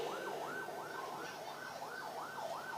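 Ambulance siren passing by, a steady repeating wail cycling about twice a second, moderately loud and continuous with faint road noise beneath.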